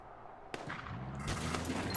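Gunfire breaks out during a shooting section of the video game Sleeping Dogs, set in Hong Kong: a sharp shot followed by a dense, continuous rattle of shots and game noise.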